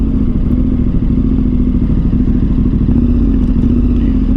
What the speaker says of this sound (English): it spins into the red line extremely easily, and so you find yourself really quickly hitting the rev limiter